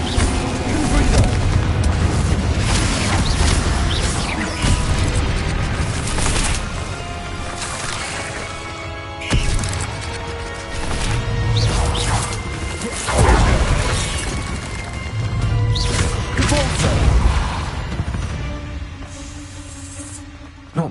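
Harry Potter video game Confringo blasting spell going off repeatedly, deep booming explosions with shattering crashes in bursts over a continuous rumble, loud and close, with occasional game voice.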